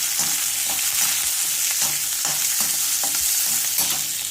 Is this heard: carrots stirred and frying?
yes